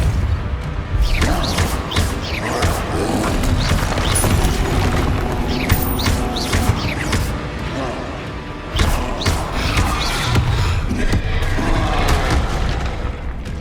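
Fiery Confringo blasts and Depulso force spells from Hogwarts Legacy land as a steady barrage of booming impacts and thuds, loud and continuous with repeated sharp hits throughout.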